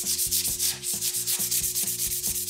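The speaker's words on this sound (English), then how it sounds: "I'm sanding across the grain for the most part because I don't want to go with the grain and end up removing the timber mate from in the grain." Abrasive sanding across the grain of a turned oak platter spinning on a lathe, a continuous raspy rubbing that pulses in quick regular strokes, close and steady with no talk.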